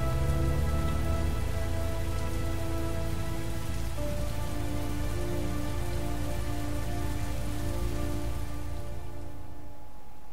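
Heavy, continuous rainfall in the PS4 game Heavy Rain hisses evenly throughout, with sustained musical tones humming underneath.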